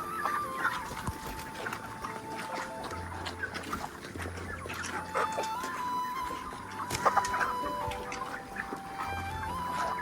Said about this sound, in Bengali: দেখতে পারা কত বড় বড় মুরগি